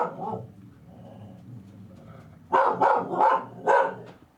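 A dog indoors lets out several loud barks in a quick burst after a quieter stretch of low whining and murmuring, the barks close and sharp.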